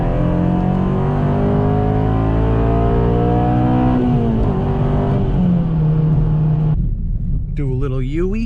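A 2007 Honda Civic Si with about 200,000 miles revs steadily while driving, its engine note rising and falling in continuous harmonic sweeps, then briefly cutting out before surging again near the end, with faint talk underneath.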